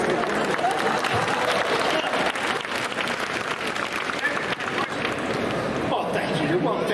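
Audience applauding at a Halloween III: Season of the Witch Q&A panel, a steady dense wash of clapping from a crowd lasting several seconds with a brief dip near the middle, then continuing strongly to the end.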